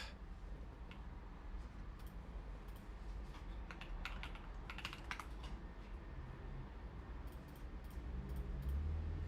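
Typing on a computer keyboard at a desk while coding, with scattered clicks and short bursts of keystrokes over a low steady room hum, close and soft, with no talking.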